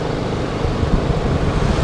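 Motorbike riding through a market area, a continuous rumbling engine and road wind noise with slight surges, close and fairly loud, no speech.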